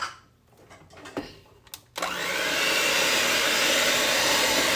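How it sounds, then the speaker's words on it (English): A kitchen blender whirs into loud, continuous action mixing three eggs into sugar-free chocolate chip brownie batter, starting abruptly after a couple of seconds of quiet clinks and handling noises. "And now I'm going to blend in my 3 eggs."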